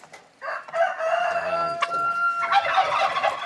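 Heritage chickens on a small farm, with a rooster crowing loudly nearby and hens clucking around it.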